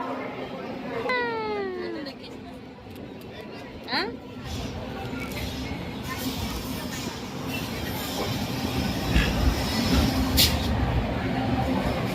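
A train moves through a crowded railway station during Rakhi Purnima rush, with rumbling rail noise beneath a dense crowd murmur. A sharp squeal or horn cuts in early on, and nearby voices carry throughout.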